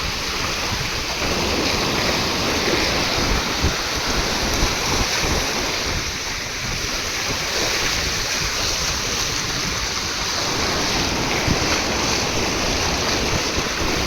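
Bhima river floodwater rushes over the submerged Daruwala bridge at Rajgurunagar with a loud, constant roar, mixed with buffeting wind noise on the microphone.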